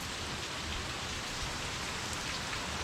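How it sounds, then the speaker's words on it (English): Steady rain falls during the first tropical cyclone of the 2022 hurricane season, a dense, even patter of drops on surfaces that holds at a constant level without any talk. "we've got some rain in the background"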